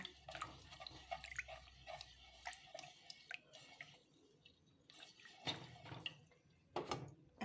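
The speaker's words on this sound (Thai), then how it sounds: "จะเอามายมแช่ลงไปนะคะ" Star gooseberries being dropped and soaked in salted water, with faint dripping and splashing sounds, quiet water movement and a few louder splashes toward the end.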